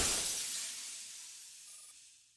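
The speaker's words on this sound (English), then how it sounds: "The commander's shot shatters the screen, cutting off the hysterical rant." Glass screen shattering from a gunshot in the Girls' Frontline video game: one sharp, bright burst of breaking glass right up close, then a hissing spray of shards that slowly fades away, with no talk over it.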